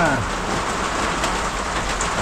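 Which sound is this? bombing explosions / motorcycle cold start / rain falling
rain falling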